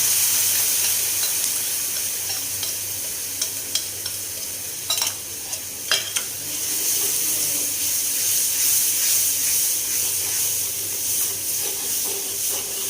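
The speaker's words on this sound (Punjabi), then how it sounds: "ਹੁਣ ਆਪਾਂ ਇਹ ਜਿਹੜਾ ਨਮਕ ਮਿਰਚ ਨਾ ਘੋਲਿਆ ਹੋਇਆ ਇਹ ਪਾ ਦਿੰਦੇ" A dissolved salt and chili mixture goes into masala frying in a pan, a loud, hissing sizzle with a few sharp clicks of stirring, steady and close, with no voices.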